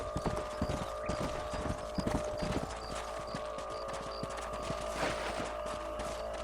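Horse hooves in Red Dead Redemption clip-clop in a steady, quick rhythm during a ride, moderately close under a quiet ambient music bed.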